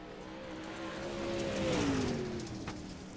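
A race car engine drones steadily on a Charlotte dirt track as it works from turn two into turn three, its pitch rising and then sliding down as the car swells in volume mid-lap and fades slightly.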